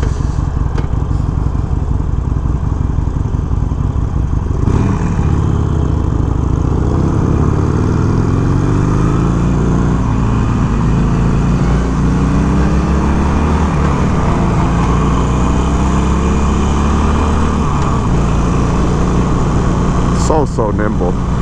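A 2021 Harley-Davidson Iron 883 engine rumbles loud and close while riding, its drone shifting in pitch as the rider drops down a gear and the revs change.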